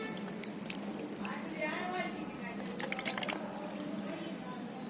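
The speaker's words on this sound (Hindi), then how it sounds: "इस पे थोड़ा थोड़ा पानी हम डाल देते हैं।" Water is poured little by little onto potting soil sown with spinach seeds, giving a soft, wet trickling and squishing that runs on and off for several seconds while a voice talks nearby.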